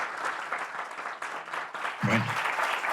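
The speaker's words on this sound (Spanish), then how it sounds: "Te damos un caluroso aplauso." Applause from an audience at a university law and literature event, a steady wash of clapping that swells slightly near the end, moderately loud.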